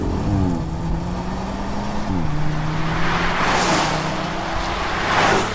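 A 1.5-litre turbocharged three-cylinder engine in a BMW i8 in sport mode drones steadily and loudly. It shifts pitch twice as gears change and swells with rushing wind and road noise toward the end.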